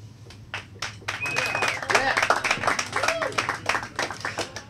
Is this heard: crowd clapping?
yes